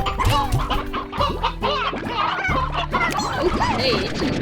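Chickens cluck and squawk in rapid, overlapping bursts inside the farming game Slime Rancher, a busy flock close by and fairly loud, the calls running steadily with no pauses.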